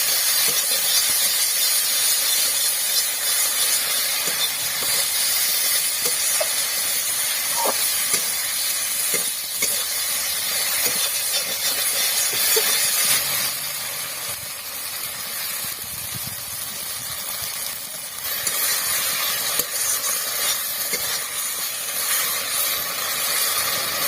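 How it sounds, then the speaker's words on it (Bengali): Chopped tomatoes frying in hot oil in a pan, a steady bright sizzling hiss that runs throughout, easing slightly midway before picking up again, with no talking. "এখন একটু ভালো করে টমেটোটা নরম করে নেব কষে কষে।"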